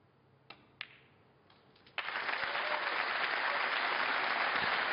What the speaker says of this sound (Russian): И аплодисменты в зале.